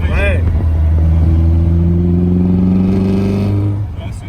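Car engine with a low steady drone and rising tonal hum echoing inside a tunnel, a race-prepared car fitted with bucket seats and roll cage, loud and close, easing off near the end.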